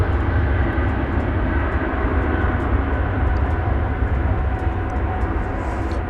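An American Airlines jet bound for London Heathrow at Dallas Fort Worth Airport at night produces a loud, continuous engine roar that fills the whole stretch without voices.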